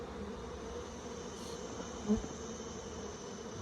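Honey bees hum in a low, steady drone around an open, crowded hive, faint and continuous with one brief nearby knock partway through.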